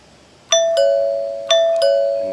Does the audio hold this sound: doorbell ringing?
yes